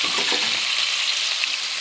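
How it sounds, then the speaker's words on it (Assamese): Fish pieces frying in hot oil salted to keep them from sticking, browning for a traditional Assamese meal; a steady, dense close-up sizzle and crackle runs unbroken throughout. "অলপ ৰঙচুৱাকৈ ভাজিছোঁ মাছখিনি"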